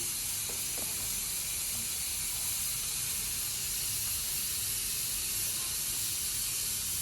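Steam hisses steadily from a pressure cooker while kalo jam sweets are being made, a continuous, even, high hiss with no break or whistle pulse, faint and level throughout.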